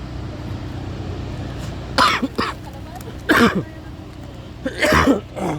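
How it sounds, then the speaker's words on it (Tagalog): A person coughs indoors in three separate bursts, a couple of short hacking coughs each time, close and fairly loud over a low steady background hum. "Inuubo ka pa."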